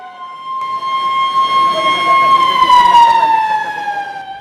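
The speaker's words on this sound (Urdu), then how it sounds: "افطار کے موقع پر جیسے ہی سائرن بجا" A long steady siren wails for the Ramadan fast-breaking at iftar, holding one sustained tone with stacked harmonics that slowly sinks in pitch over several seconds, loud and continuous over faint background noise.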